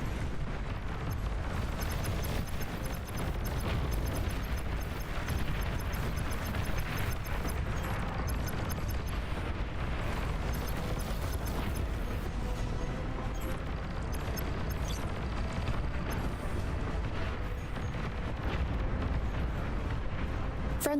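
Dense rumbling explosions fill the game Beyond All Reason as a commander is destroyed, a continuous heavy roar of blasts and booms without a break.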